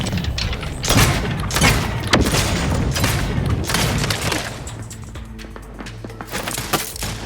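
An explosion in the video game The Outer Worlds 2 booms loudly and close, followed by crackling, splintering debris and rumbling that trail off over several seconds.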